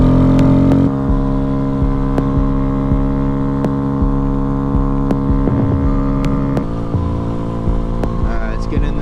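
A Honda Grom motorcycle cruising along, its engine giving a steady, loud, close droning hum with a constant pitch. Occasional sharp clicks and small bumps break through the drone.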